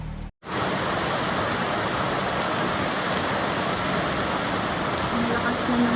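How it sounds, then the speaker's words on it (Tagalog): Heavy afternoon rain pours down in a steady, dense broadband hiss that holds at the same loud level from start to end, after a brief silent gap at the very start. "Ang lakas na naman ang ulan."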